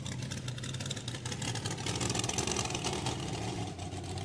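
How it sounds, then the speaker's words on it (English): The Quadzilla monster truck's engine runs steadily in the pits after a show, a continuous rough low rumble with slight revving surges, fairly close and alone. "here comes the Quadzilla truck, and it's coming off the track after the show. You can probably hear it running."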